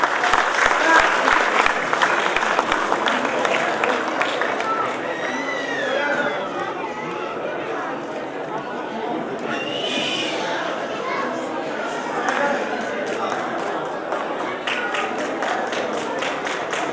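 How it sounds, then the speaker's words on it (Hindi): Loud applause for children at an Ambedkar Jayanti stage event, a crowd's clapping that is dense at first, then thins and continues under chatter and talk. "तालियां जोरदार बच्चों के लिए"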